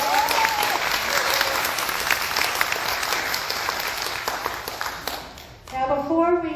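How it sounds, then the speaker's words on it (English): A congregation at a Sunday church service applauds in a full, steady round that slowly tapers, then a voice speaks near the end as the clapping dies away. "let's give a round of applause"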